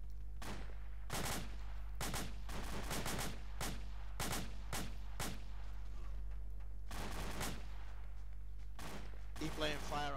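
Suppressing gunfire in a military shooter video game, with repeated sharp bursts of rapid automatic shots separated by short pauses over a constant low engine-like hum, loud and close.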